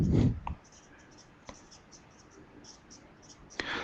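Pen scratching on paper as calculator button labels are written out by hand, a faint, steady scribbling with a few sharper taps and strokes, close and quiet.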